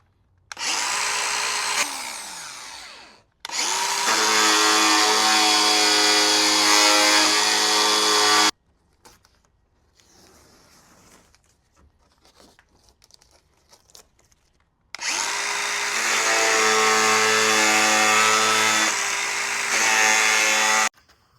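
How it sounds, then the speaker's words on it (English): A power grinder cuts down part of an off-road Subaru bumper, running in two long, loud, close whining bursts separated by a quieter stretch of faint handling noises. "I'm gonna go ahead and grind this down just a little bit and then we'll try again"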